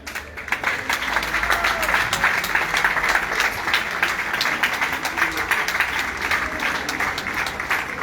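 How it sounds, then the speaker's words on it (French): A rally crowd applauds the intersyndicale loudly and continuously, a thick, even roar of many hands clapping, with a voice heard over the clapping. "Et je vais applaudir bien fort l'intersyndicale."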